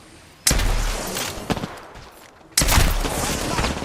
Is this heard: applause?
no